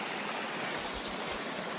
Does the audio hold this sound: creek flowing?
yes